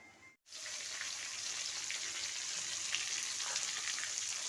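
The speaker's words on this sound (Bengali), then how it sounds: "চিংড়িগুলো অল্প একটু ভেজে নেব, একটু চুপুচ করে, বেশি ভাজবো না" Prawns fry lightly in hot oil in a pan with a bright, steady sizzle and crackle, close and loud, following a brief silent gap at the start.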